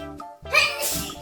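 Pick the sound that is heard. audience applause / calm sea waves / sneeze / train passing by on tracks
sneeze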